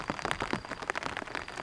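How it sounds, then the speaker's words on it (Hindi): Morning rain falls steadily through a forest, a soft, even patter of drops on leaves and surfaces, faint and continuous with no other sounds. "आज सुबह सुबह बारिश स्टार्ट हो गई"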